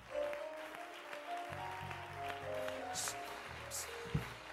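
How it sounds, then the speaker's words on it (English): A church congregation claps along during an altar call, a steady wash of hand claps running under sustained musical tones with a few sharper slaps toward the end. "Come on. Clap your hands."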